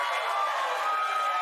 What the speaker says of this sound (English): This cheer sequence is just too long.